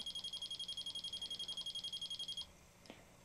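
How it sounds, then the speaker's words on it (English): An E.Probe 2.0 e-field detector beeps while calibrating, a rapid even train of about two dozen short high electronic beeps lasting a couple of seconds, then stopping, followed by a faint click in a quiet room. "Now sometimes it will beep a little bit while it's calibrating."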